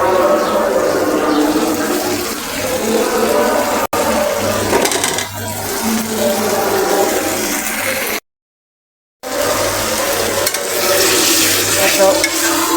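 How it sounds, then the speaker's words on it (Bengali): Meat added to a large amount of hot oil in a home kitchen fries with a loud, continuous sizzle, with stirring scrapes and a brief gap partway through. "এত তেলে পুরো গোস্তটা দিয়ে দিচ্ছি।"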